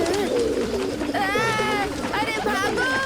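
Cartoon pigeons coo in repeated warbling calls, loud and close, layered over a busy animated soundtrack with no clear speech.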